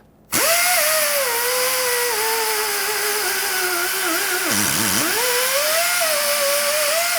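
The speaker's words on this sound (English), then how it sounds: "I'm going to sand them down with a worn out sanding disc so that I don't remove too much material" A power tool spins a worn sanding disc against corroded starter terminals on a 2000-2005 Ford Excursion, giving a loud continuous whine that dips briefly under load midway and then recovers, close up with no speech.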